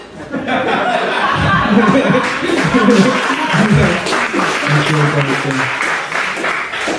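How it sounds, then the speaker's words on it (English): Audience at a virtual comedy special breaking into applause mixed with chuckles and laughter, a continuous patter of clapping with a voice talking over it, fairly close and loud throughout. "You don't have to be the only person that doesn't clap."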